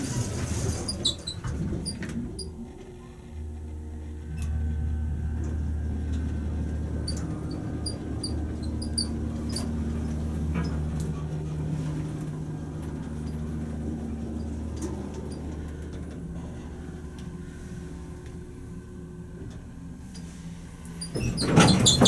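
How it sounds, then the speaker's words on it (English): Offermann hydraulic elevator at 111 Main St, Lockport, NY, with its motor running as a steady low hum and faint whine for most of the stretch, under scattered clicks and squeaks. "Well, let's listen to the motor."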